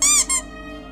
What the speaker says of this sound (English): clutching Toby so hard that the creature let out a squeak